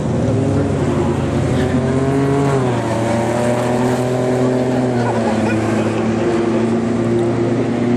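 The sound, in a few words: cars racing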